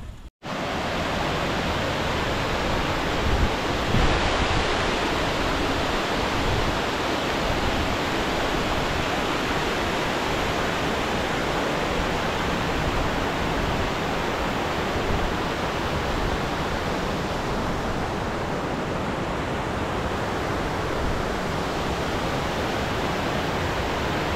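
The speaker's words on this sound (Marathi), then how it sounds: "पुरंदर किल्ल्याच्या बाजूने येणार आहे पाणी असंच ओढ्याने खळखळ खळखळ वाहत येतं" Stream water rushing steadily near Purandar fort, babbling past a small check dam, a loud continuous close wash of water with no voices.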